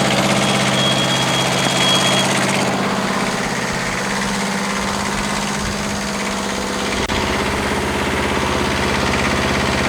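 Diesel engine of a CTE Traccess 230 spider lift running outdoors, a steady loud idle with a low throbbing rumble that holds evenly throughout, no voices.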